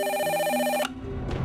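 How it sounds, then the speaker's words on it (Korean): A telephone bell ringing effect sounds as a bright, sustained metallic ring that cuts off sharply partway through, then leaves a brief low rustle behind. "경찰서로 전화 한 통이 걸려옵니다."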